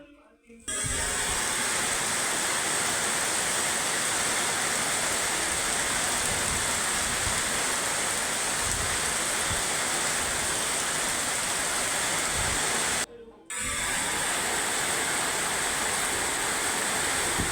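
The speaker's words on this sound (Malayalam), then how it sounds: "അപ്പം ഇനി മഴയൊന്ന് കാണാം കേട്ടോ" Heavy rain pours steadily in a dense, loud hiss, broken only by two brief cuts in the sound.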